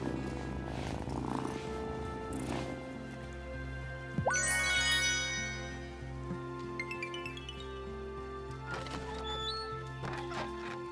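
Cat purring in the Nintendo Switch game Wylde Flowers: a low, steady rumbling purr runs throughout beneath background game music, interrupted by a brief rising chime and scattered twinkling effects.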